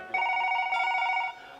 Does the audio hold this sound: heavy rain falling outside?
no